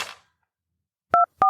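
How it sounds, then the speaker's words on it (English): Two short dual-tone beeps from a telephone handset as a number is redialed, each clear and close, separated by a brief gap after a faint rustle at the start. "picked up the handset, and redialed the receptionist's number"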